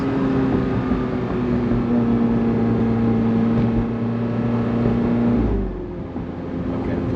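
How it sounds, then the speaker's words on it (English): A 2021 McLaren 720S Spider engine drones loudly with a sustained tone that shifts as the throttle is touched, then settles into a lower rumble. "That's just touching the throttle."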